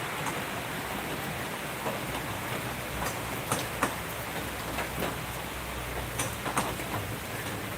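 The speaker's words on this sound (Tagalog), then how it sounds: "Ang lakas ng ulan dito." Heavy rain pours steadily as a dense, constant hiss, with scattered sharper drips and taps striking a nearby surface.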